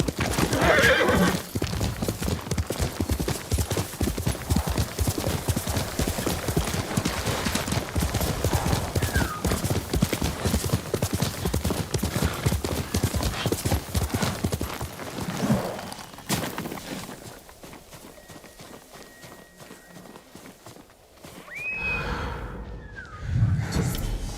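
Rapid, steady hoofbeats of a galloping horse in the video game Ghost of Tsushima pound for a long stretch, with a horse whinnying near the end after the galloping fades.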